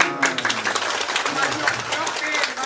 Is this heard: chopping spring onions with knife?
no